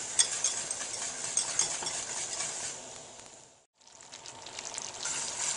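A sugar mixture boils hard at a rolling boil in a pan while being stirred, giving a steady bubbling sizzle with scraping stir sounds and a brief break partway through.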